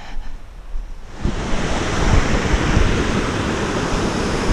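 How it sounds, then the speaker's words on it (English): Rushing water at the base of Whitewater Falls on the Foothills Trail: a dense, steady roar that swells in abruptly after about a second and holds loud and constant, with no voices. "We are at the base of Whitewater Falls"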